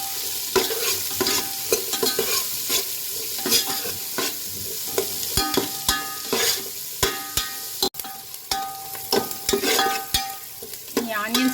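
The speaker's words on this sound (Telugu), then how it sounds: "ఆయిల్ వేడాక ఆనియన్స్ వేసుకొని బ్రౌన్ కలర్ వచ్చే వరకు వేయించుకోవాలి" Onions frying in hot oil for chicken dum biryani: a steady, close sizzle runs throughout, with frequent sharp spatula scrapes and clanks against the pan and a brief metallic knock near the end.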